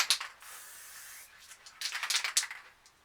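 A can of white spray paint hisses onto a canvas in several short, light bursts, close and fairly soft, with pauses between them and no voices.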